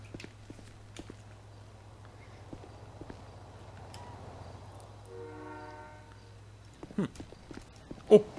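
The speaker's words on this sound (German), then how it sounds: "Oh, ich höre den Zug." A train rolls by in GTA V, a faint low rumble with a brief horn-like tonal stretch midway, followed by a few sharp closer knocks near the end.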